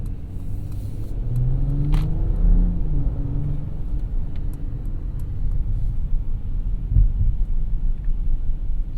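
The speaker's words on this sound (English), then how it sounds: "The red light kind of foiled that acceleration a little bit, but you can see it is quite fast" A 2021 Mercedes-Benz S500 with a turbocharged inline-six accelerates, heard from inside the cabin as a low, swelling engine rumble that rises briefly and then settles into a steady drone.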